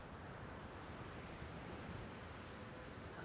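Ocean waves wash steadily onto a shore beneath a misty rooftop in an audio drama, a continuous broad surf roar with gentle swells and a touch of wind, no voices.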